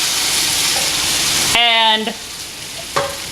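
Hot sauce hits an induction-heated pan in a café kitchen, giving a loud, sharp hiss of frying that follows a steady background sizzle, then fades quickly, with a brief clatter at the end.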